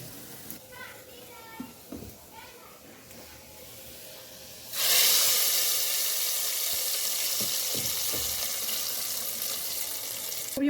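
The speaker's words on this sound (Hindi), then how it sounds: "इसका हम बघार लगा देंगे" Hot tempering (baghar) poured into daal gosht bursts into a loud, sustained hissing sizzle midway, following a quieter stretch with light kitchen sounds.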